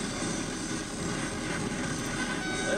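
Aircraft engine drone from the real-time strategy game Command & Conquer: Generals Zero Hour, a steady broadband rumble with no pauses, loud and continuous for the whole stretch, with no voices over it.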